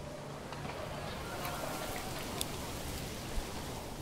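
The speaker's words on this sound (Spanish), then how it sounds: "Espero que aguante, es que no vea la tormenta" Steady rain hisses down during a storm in the medieval city-building game Manor Lords, a dense, even wash of drops with a couple of faint ticks, while a voice talks quietly underneath.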